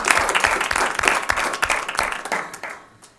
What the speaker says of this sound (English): Josie, you deserve a round of applause.